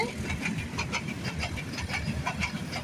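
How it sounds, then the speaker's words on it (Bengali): A train passes through dense morning fog, a steady rumble with a rhythmic wheel clatter that stays fairly close throughout, with no speech over it. "সুন্দর ট্রেন আসছে, দেখতে পাচ্ছেন কতটা কিউট। ট্রেন যাচ্ছে, ট্রেনের গতিতে"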